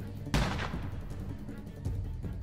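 One sharp gunshot rings out in The Walking Dead Telltale game, S3 E2, a fairly faint single crack over a low rumbling background with a softer thud following later.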